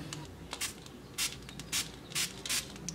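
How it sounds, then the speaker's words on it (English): Five quick, hissy spritzes from a spray bottle misting indoor plant leaves, faint and close, spaced irregularly over a quiet background. "I just spray it where I want the leaves to come out."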